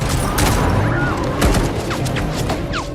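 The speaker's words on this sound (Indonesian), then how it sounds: "Samidi CS memblokir jalanan mereka dan menembak ke arah bus secara" Bursts of film gunfire hit a bus, sharp cracks and thuds mixed with crashing impacts and a few whizzing streaks, dense and loud over a rumbling background.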